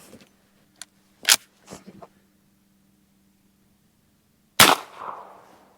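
.357 Magnum carbine rifle firing Federal 125 grain standard pressure rounds: sharp, loud gunshots with a few quieter clicks and handling noises between them, over a faint steady hum.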